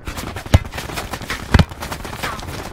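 SMG fire in Call of Duty Blackout, with rapid clattering rounds running throughout and two heavier impacts standing out about a second apart, close and fairly loud.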